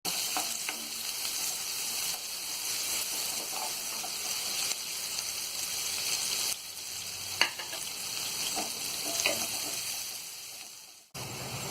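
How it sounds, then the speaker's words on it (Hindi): Chopped onions frying in oil toward light pink for rava upma, a steady close sizzle with occasional spatula clinks and a brief dip near the end, no talking. "इसके बाद हम ये कटी हुई प्याज डाल देंगे। प्याज को हम हल्का गुलाबी होने तक तलेंगे।"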